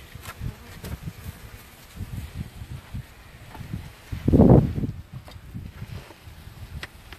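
Honeybees buzzing outdoors while a bee package is installed in a hive, a faint, uneven hum broken by gusts of wind, with one louder rush near the middle.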